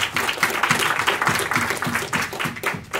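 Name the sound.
audience applause at crypto conference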